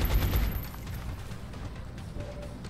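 Rapid suppressive gunfire crackles in the XCOM Long War strategy game, a dense burst of overlapping shots that thins into scattered pops, with no speech.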